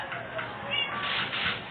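A cat in a video game lets out a short, soft meow over a muffled game background, with faint talk nearby.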